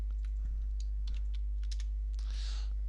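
Keys clatter in scattered light taps on a computer keyboard while entering list options in an Excel spreadsheet, quiet and close over a steady low electrical hum.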